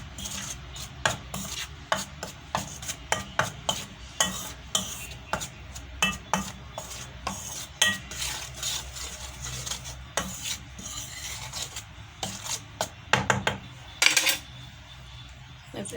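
Chicken wings seasoned with salt and pepper are tossed together with cornstarch and flour, giving close, repeated rustling and scraping strokes in a steady, uneven rhythm with brief louder knocks, and no talk.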